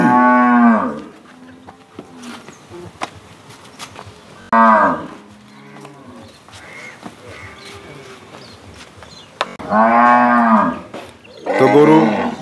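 Cattle at a dairy farm in Pabna, Bangladesh, give several long, loud, close moos, with quieter farm background between the calls.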